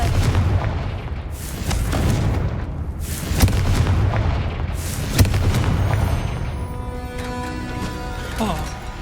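Explosive blasts from a Confringo fire spell in Hogwarts Legacy, several loud booming bursts in quick succession over a rumbling low bed, with sharper cracks near the middle and a ringing, chiming tail toward the end.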